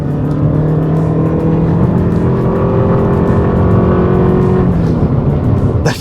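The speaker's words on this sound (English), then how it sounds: "I like that little electric whir that you can hear too." A 2023 Toyota Prius Prime plug-in hybrid accelerates hard in sport mode, a loud continuous drone with a rising whir heard from inside the car, steady for several seconds and without talking.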